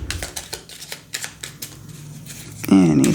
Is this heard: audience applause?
no